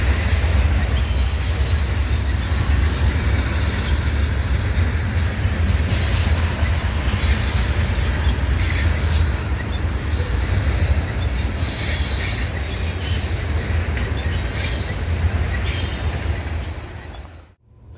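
A Norfolk Southern freight train rumbles steadily past up close in South Bend, Indiana, heavy and loud, with wheels squealing and clattering over the rails until it fades at the end.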